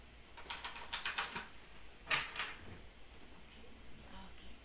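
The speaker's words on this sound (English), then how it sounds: "One more shuffle." Tarot cards shuffled by hand, a quick run of papery riffling flutters followed by a second short burst, close and fairly quiet with no talking.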